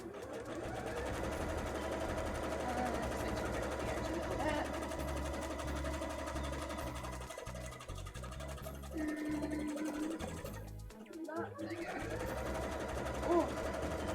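A sewing machine stitching a cosplay petticoat, running in long continuous buzzing bursts with brief pauses and speed changes, close by, with a person talking over it.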